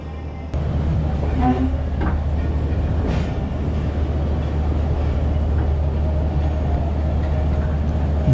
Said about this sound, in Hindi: तो ट्रेन 45 अब मुल्तान से रवाना हो चुकी है